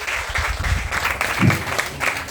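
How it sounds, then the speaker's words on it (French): An audience applauding artists at an association presentation, a dense burst of clapping from many hands filling the room throughout, loud and close. "qu'on puisse quand même vous applaudir"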